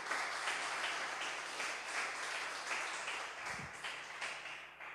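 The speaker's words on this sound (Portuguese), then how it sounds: "Aplauda ao Senhor em nome de Jesus." Church congregation applauding during a Portuguese-language worship service, a steady wash of clapping that holds at an even level for the whole stretch with no voices on top.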